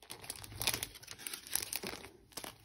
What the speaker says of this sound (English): So sorry, there's crinkling.